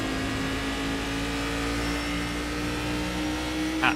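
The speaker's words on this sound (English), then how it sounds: "The V8 engine is just fabulous, and Cadillac, you'll see it in their GTP car later as well. It also sounds really good." A Cadillac V8 engine in the iRacing sim racing game holds a steady, even drone at constant revs, close and alone with no voices.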